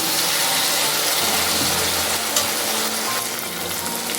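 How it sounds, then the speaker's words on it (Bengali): Ginger paste and spices fry together in a pan for a cabbage curry, giving off a loud, steady sizzle with occasional stirring scrapes, close up and without talk. "আদা বাটাটা এর সাথে ভালো করে মিশিয়ে নিচ্ছি"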